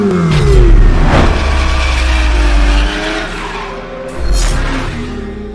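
A Ram pickup, an electric truck with a gas engine, travels along the highway, giving a loud, steady rumble of engine and road noise with shifting whining tones that ease off briefly before swelling again.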